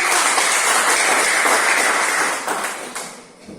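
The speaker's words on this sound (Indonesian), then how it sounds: "tepuk tangan untuk kalian" A classroom of students applauds after a lesson on folk tales, loud dense clapping that holds steady and then thins out toward the end.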